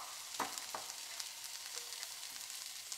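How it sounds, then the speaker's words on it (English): Butter sizzles faintly in a hot pan with duck, a soft steady crackle with a couple of light clinks early on, heard quietly with no talking. "cut a few pads of butter, and toss those in the pan."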